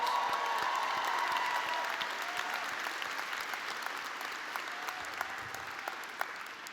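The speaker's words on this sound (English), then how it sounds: "Let's give them a round of applause." A crowd at a 2021 graduation ceremony applauds steadily, a broad wash of clapping that gradually thins and softens over several seconds.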